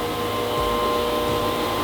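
A floor scrubber machine works a resilient floor with a steady, droning motor hum and whirring pad, constant and fairly loud throughout with a slight swell midway.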